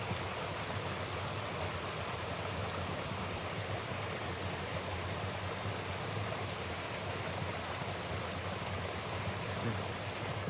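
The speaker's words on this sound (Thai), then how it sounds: "น้ำไหล" Water flows heavily in a stream, a loud, steady rushing roar that stays even throughout with no break and no voices.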